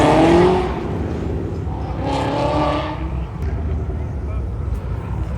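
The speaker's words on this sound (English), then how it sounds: "There is like a turbo GT350 idling right now." A turbo Ford Mustang GT350 engine idles in the pits with a deep, steady rumble that never lets up, while indistinct voices murmur faintly in the background.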